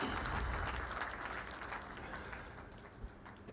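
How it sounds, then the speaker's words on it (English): Audience applause in a hall at an Isuzu 50th anniversary celebration event, a steady wash of many hands clapping that gradually thins and fades over a few seconds, moderately distant. "So let's give a round of applause for that."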